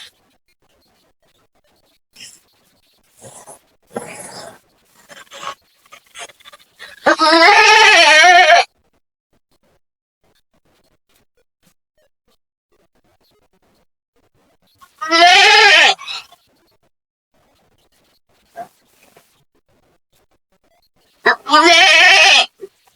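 A goat bleats in loud, drawn-out calls while it is being cleaned, three strong bleats spaced apart with quieter rustling and handling noises between them and near silence in the gaps.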